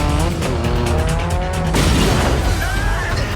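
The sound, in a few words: drifting car engine and tire squeal, Fast & Furious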